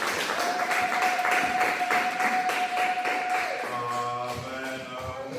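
Church congregation applauding loudly and steadily, a dense wash of clapping and cheering with a sustained tone running through it, then easing as a voice and music come in at the end.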